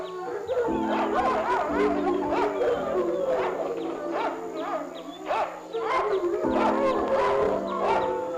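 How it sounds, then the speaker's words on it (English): A dog howls in long, wavering, drawn-out cries, repeated several times and heard close and clear with no one talking. "It's a dog."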